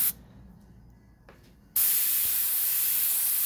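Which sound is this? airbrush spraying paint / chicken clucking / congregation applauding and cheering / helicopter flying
airbrush spraying paint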